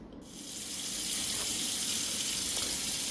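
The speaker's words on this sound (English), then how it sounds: "So now that we rinse our lamb" Tap water pours steadily over lamb shoulder meat being rinsed in a sink, the flow starting after a brief moment of quiet and then running evenly and close by.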